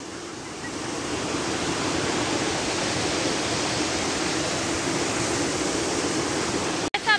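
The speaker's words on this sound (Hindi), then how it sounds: "देख सकते हैं कितना ज़्यादा तेज जहाँ से पानी फ्लो हो रहा है" Fast-flowing water at a waterfall in Siran valley rushes loudly and steadily in a dense, continuous roar, close by with no voices.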